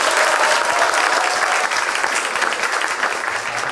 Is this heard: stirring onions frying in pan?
no